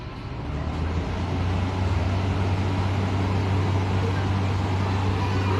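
Fan of a 1 HP Haier window-type air conditioner running with the compressor off, a steady close whooshing airflow with a low constant hum that swells in over the first second.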